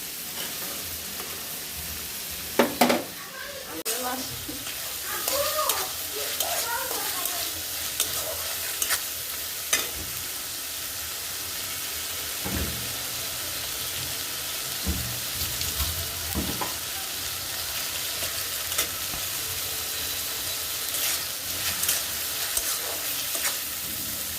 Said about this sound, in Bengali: এই যে হচ্ছে কাঁঠাল বিচি সিদ্ধ করতেছি এটার মধ্যে, আর শুটকির থেকে আমার মনে হয় বেশি হবে কাঁঠাল বিচি দিছি।